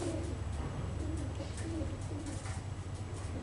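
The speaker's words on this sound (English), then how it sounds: "You hear the dumb pigeons out there walking around?" Soft, repeated pigeon coos from nearby, a low rhythmic burbling over steady outdoor background noise.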